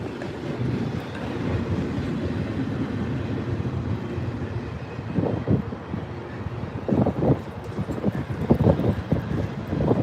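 A cargo train rolls along railroad tracks behind a detention center, a steady distant rumble with wind noise and intermittent clattering wheel clicks growing more frequent toward the end.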